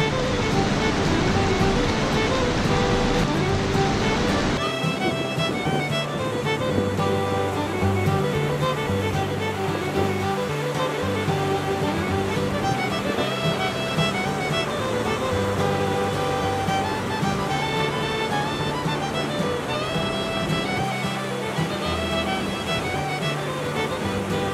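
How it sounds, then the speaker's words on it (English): A waterfall on a wild river in Labrador rushes with a continuous, broad roar of churning water, steady and fairly close throughout, heard from a canoe trip. "And there's another waterfall straight ahead."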